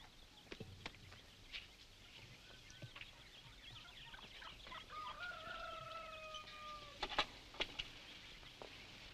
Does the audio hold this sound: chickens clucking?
yes